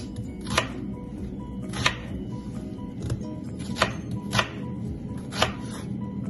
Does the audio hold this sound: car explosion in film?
no